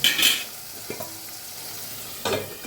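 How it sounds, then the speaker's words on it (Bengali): Shrimp being stirred in a mustard sauce in a frying pan, with a few soft scraping stirs and a gentle sizzle, close and fairly quiet, no voices. "এবার একটু নেড়ে ছেড়ে ঢাকা দিয়ে দিতে হবে।"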